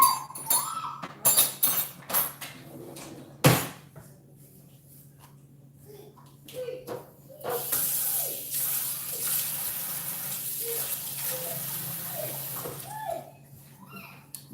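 Water being poured into a cooking mixture in a home kitchen, with intermittent splashing and trickling mixed with clinks of utensils and glass, fairly close and with little talking.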